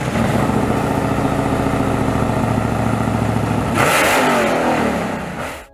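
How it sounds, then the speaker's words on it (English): A GM LS V8 Generation 4 engine runs at a rough, rumbling idle, then blips sharply to a loud rev near the end before dropping away, heard close up with no talk. "The second generation of the LS V8 engine, known as the Generation 4, was introduced in 2005"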